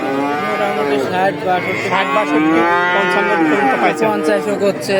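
A cow moos loudly and at length, a drawn-out bellow close by, with indistinct chatter at a cattle market in the background.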